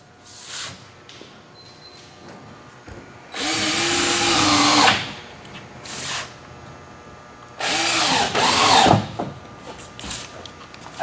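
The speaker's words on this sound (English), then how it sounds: "So I'll put some more screws in here." A power drill drives screws into wood: two loud, close bursts of whirring motor that ramp up and wind down, each lasting about a second, with softer brief taps and handling noise between them and no talking.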